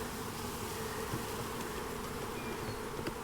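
Honeybees, mostly nurse bees, hum inside an open nuc hive in a steady, soft, close buzzing drone with a few individual bees whining past, and no voices.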